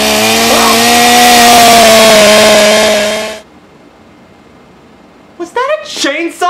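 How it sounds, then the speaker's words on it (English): A loud chainsaw engine in the Miraculous Ladybug cartoon roars steadily for a few seconds and then cuts off, leaving quiet before a voice briefly speaks up. "Was that a chainsaw?"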